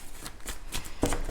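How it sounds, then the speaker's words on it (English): Tarot cards riffled and shuffled quickly, a few soft papery flicks followed by a sharper slap as cards spill from the deck, close and quiet. "Oh gosh, cards flying out."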